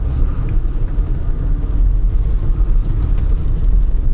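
A four-wheel-drive vehicle climbs a rough track with a loud, steady, low engine rumble and constant road noise throughout, heard close up from inside with no talking.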